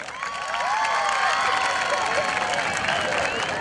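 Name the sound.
audience applause for a pageant candidate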